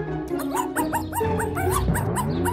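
A dog barks and yips in a quick string of sharp, high, close barks with whimpery tones, over a low background hum.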